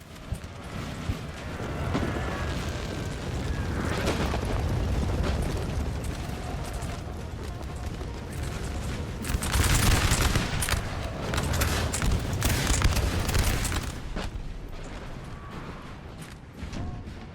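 Artillery and massed musket volleys roll across a large 4v4 Peninsular War battle in Napoleon Total War 3, a dense continuous din of booming cannon and crackling fusillades with louder bursts building toward the middle.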